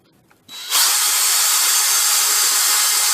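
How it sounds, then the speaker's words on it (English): Power driver fitted with a pilot drill bit boring down into a piece of wood, starting after a brief quiet moment and then holding a loud, steady, high-pitched whirring grind, close up. "Position your piece of wood exactly where required and drill down."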